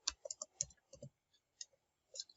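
Several quiet, close keystroke clicks on a computer keyboard, a short cluster followed by a pause and a couple of isolated taps, with no talking.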